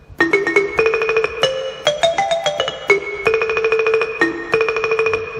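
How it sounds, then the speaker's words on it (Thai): Rapid wooden pong lang xylophone notes sampled on a Yamaha PSR-S670 keyboard, rolled in a fast tremolo, bright and close, playing a short melodic line without any voices. "อันนี้เพียงปงลาง เสียงรัวด้วย"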